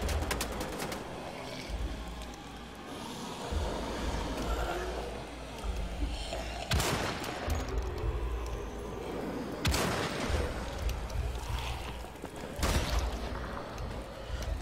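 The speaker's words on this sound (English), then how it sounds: "They're shooting at me." Gunfire crackles in the Wolfenstein The Old Blood video game, several sharp bursts and loud shots at irregular intervals over a busy, noisy battle backdrop, with a voice speaking at times.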